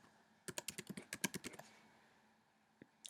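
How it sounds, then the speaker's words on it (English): Keys clatter on a computer keyboard as a name is entered, a quick burst of a dozen or so close, soft taps over about a second, then quiet with one or two stray keystrokes. "Then they will type in their name"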